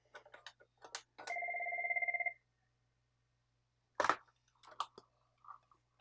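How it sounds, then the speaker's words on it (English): A Cisco IP phone rings with an incoming call, a steady two-tone electronic ring lasting about a second, close and clear, surrounded by quiet clicks and handling noises from the desk. "Yeah, we have a phone call."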